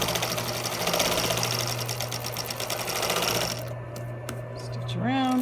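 A sewing machine hums steadily while stitching around a medical mask cover, then cuts off partway through, leaving a brief squeak and handling noise.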